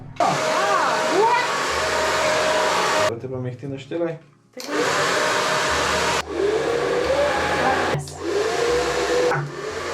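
A hair dryer blows steadily and loudly through most of the span, pausing briefly midway before starting again, while people talk over it.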